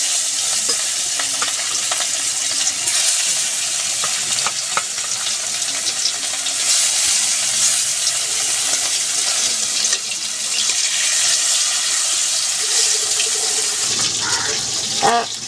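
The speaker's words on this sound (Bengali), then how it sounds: "আমি সর্ষের তেলেই রান্নাটা করছি তেলটাও গরম হয়ে গেছে আমি মাছটা দিয়ে দিচ্ছি" Bhetki fish pieces fry in hot mustard oil, a loud continuous close sizzle with occasional clicks and scrapes of a utensil against the pan throughout.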